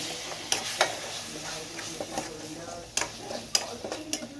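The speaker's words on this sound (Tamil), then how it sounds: "கொஞ்சம் அந்த பச்சை மணமெல்லாம் போகிற வரைக்கும் வதக்கி விட்டுருங்க" Chili powder and turmeric sautéing in a home-cooking pan: a soft, steady sizzle with intermittent spoon scrapes and stirring clinks, close and moderately quiet.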